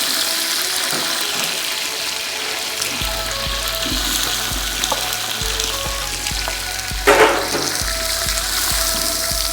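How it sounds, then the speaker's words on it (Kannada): Onions frying with mint leaves in oil for biryani, a steady loud sizzle with soft stirring scrapes and a few sharp clatters of a utensil against the pot. "ಟ್ರಾನ್ಸ್ಲೂಸೆಂಟ್ ಬರೋವರೆಗೂ ಫ್ರೈ ಮಾಡ್ಕೊಬೇಕು."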